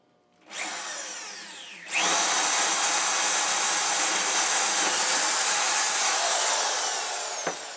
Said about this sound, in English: I'm going to drill a hole so that I can then use my jigsaw to cut.